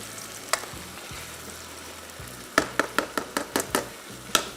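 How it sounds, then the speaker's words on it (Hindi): Chicken roast sizzling and frying in a pot, stirred with a utensil: a steady sizzle joined by a quick run of sharp scraping clacks against the pot, with no talking. "और इसको थोड़ा सा हिला लिया।"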